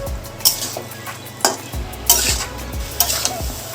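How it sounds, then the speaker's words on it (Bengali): Boiled jackfruit being stir-fried with potatoes and spices in a pan, a soft sizzle under repeated sharp spatula scrapes and knocks against the metal, about one every half second to second. "এবার এটা আলু আর মশলার সাথে একটু কিছুক্ষণ ধরে কষিয়ে নেব।"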